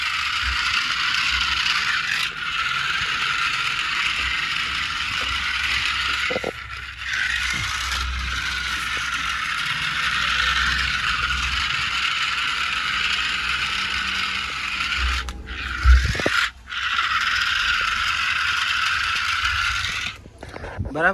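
Toy army tank's motorized running mechanism, a loud continuous whirring gear drone that cuts out and restarts a few times, with clunks and scrapes as it stops and moves again.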